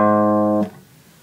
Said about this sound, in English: Fifth string will sound like this.